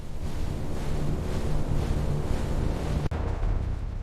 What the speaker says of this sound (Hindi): जैसे ही किले के पास पहुंचते ही ठंडी हवा चलने लगी